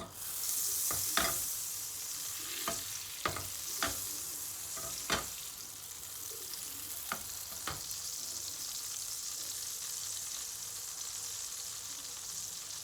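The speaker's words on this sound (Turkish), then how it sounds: "Tavaya bir parça tereyağı, birazcık sıvı yağ ilave ediyoruz. iyicene kızmasını bekliyoruz." Steady crackling sizzle of butter and oil heating in a hot pan, with a few sharp clinks of a utensil stirring early on, then continuous frying hiss.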